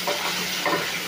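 Potatoes frying in a pan with a little salt, stirred with a spatula, giving a steady close sizzle with soft scraping strokes throughout.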